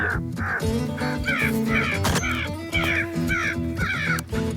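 Crows cawing repeatedly and loudly in a steady series of harsh calls during a winter crow hunt in Québec, close by and dominating the scene with no talk.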